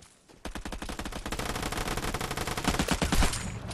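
Video game gunfire erupts in a dense, rapid automatic burst that starts abruptly and keeps a loud, steady rhythm, near and intense, with no talk over it.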